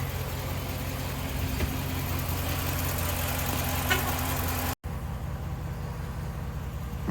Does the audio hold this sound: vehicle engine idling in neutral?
yes